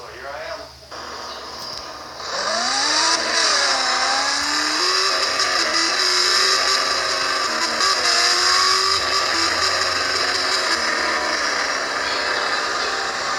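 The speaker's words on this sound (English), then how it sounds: "That car running." A car engine starts up and revs, pitch sweeping up and down in rising whines before settling into a loud, steady high drone, with voices talking faintly at the start.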